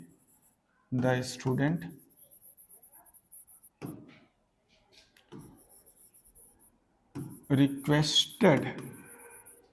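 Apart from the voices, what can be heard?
teacher writing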